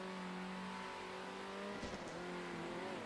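A race car in the Circuit Superstars video game drones at steady engine pitch, then hits fencing in one sharp crunching impact midway through, and the engine note continues after it.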